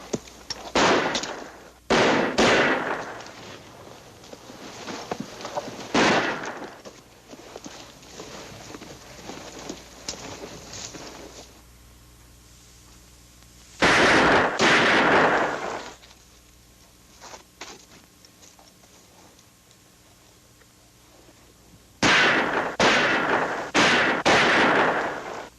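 Sharp gunshots ring out in a western shootout, arriving in separated bursts of several rapid cracks with quiet stretches between volleys, loud and close with echoing tails.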